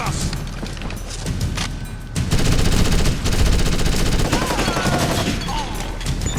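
Machine gun fire in Ghost Recon Advanced Warfighter 2 hammers in dense, rapid bursts with booming impacts, loud and close, continuing as a chaotic firefight.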